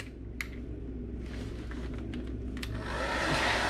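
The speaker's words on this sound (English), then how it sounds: "You got your hair dryer there." Hotel room hair dryer at a Premier Inn near Leeds Bradford Airport running with a steady close whir, rising louder toward the end, with a few small clicks of handling.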